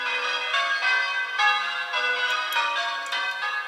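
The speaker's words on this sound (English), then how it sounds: "There's church bells." Church bells ring steadily with overlapping, shimmering tones and repeated strikes, fairly loud and close, with no voices.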